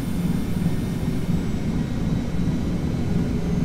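Simulated Boeing 717-200 jet engines spooled to takeoff thrust in Prepar3D v4, a constant heavy roar dominated by low rumble with a thin high whine above, loud and steady from start to finish.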